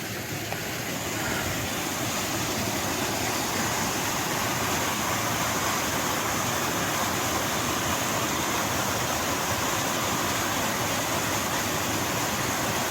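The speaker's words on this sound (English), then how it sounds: "Nice waterfall." Waterfall on the Appalachian Trail in Maine running full after heavy rain, a steady, dense roar of rushing water that stays constant and close throughout, with no voices.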